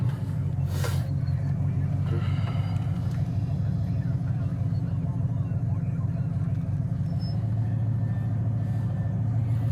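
A 1967 Pontiac GTO engine idles steadily and close, a continuous low rumble holding level throughout, with a faint voice briefly audible early on.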